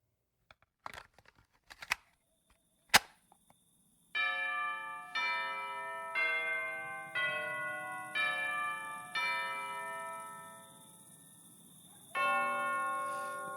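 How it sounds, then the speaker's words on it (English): A bell tolls seven times at a steady rhythm of roughly one stroke per second, each strike ringing out and decaying. The chimes are clear and moderately loud, with a pause before the last one. A few faint clicks and knocks come before the tolling begins. "That would be the bell indicating it's 1 a.m."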